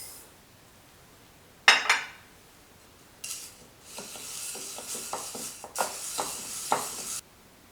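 Black quinoa, red quinoa and Israeli couscous being poured into a grain mix, first a brief rattle, then a longer stream of small grains hissing and pattering into a container, close and soft with no speech.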